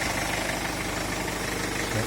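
A Mercedes Sprinter van engine idles steadily with a low, even rumble and a faint knocking pulse, constant in level throughout.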